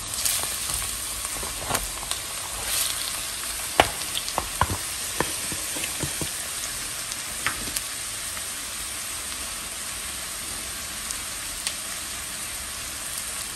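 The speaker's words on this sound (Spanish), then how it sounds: "Aquí le voy a agregar medio kilo de carne molida de res." Half a kilo of ground beef sizzling and frying in a pan with chopped onion, a steady crackling hiss with occasional louder pops and spatters, close and moderately loud with no talking.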